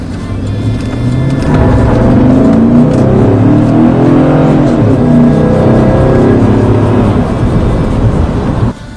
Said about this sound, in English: Being a big V8, it does sound pretty good too when you're on the power.